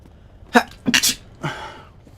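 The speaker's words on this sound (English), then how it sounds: "You mean because I sneezed?" A person sneezes in a quiet room, a quick inhale-like burst followed by two sharp explosive bursts and a softer trailing one, close and loud.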